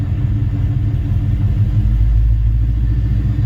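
A Ford Coyote engine swapped into a car, suspected of a fault and low power, idles with a steady, loud low rumble and a faint uneven pulsing throughout, with no voices.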